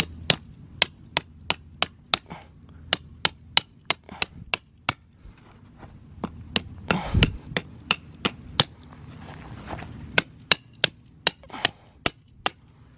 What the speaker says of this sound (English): So I got this hammer and I'm gonna pound in the stakes.